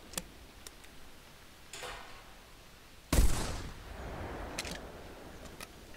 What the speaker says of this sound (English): So you can see the 12 gauge birdshot is extremely flat shooting.